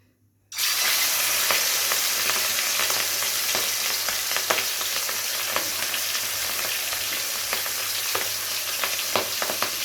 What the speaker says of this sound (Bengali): তো দেখুন তেলটা কিন্তু ধোয়া ওঠা গরম হয়ে উঠেছে। এবারে এক এক করে মাথাগুলোকে ছেড়ে দেবো।